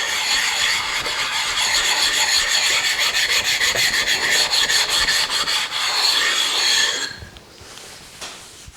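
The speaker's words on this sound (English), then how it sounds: "I've got a stone which is not particularly flat, but it should take any high spots off" Sharpening stone rubbed back and forth across a surface grinder table to remove high spots, a loud, close, gritty rasping scrape in continuous rhythmic strokes that stops abruptly, leaving a faint quieter rub.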